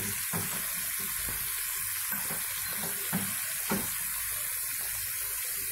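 Potatoes fry in a pan for aloo tahri, a steady soft sizzle with occasional scraping stir strokes, heard alone and fairly quiet.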